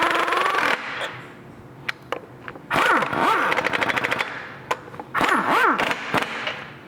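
Impact wrench running new lug nuts down onto the wheel studs of a BMW or MINI Cooper, loud rattling bursts in three bouts with revving whines between them, close by and without talk.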